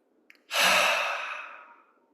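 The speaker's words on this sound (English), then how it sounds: "breathing in from the nose" A person drawing one slow, deep breath in through the nose during guided meditation, a soft airy rush that swells quickly, then tapers off gradually over more than a second, close and alone in a quiet room.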